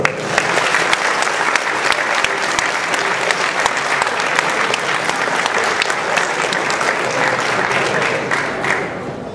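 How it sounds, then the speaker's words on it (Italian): A large convention audience claps steadily and loudly for a costume at a cosplay parade, a dense, sustained wash of applause with faint crowd murmur beneath and no voices over it. "procedete adesso ad applicare alle mie orecchie e a quelle di Marco il vostro applauso"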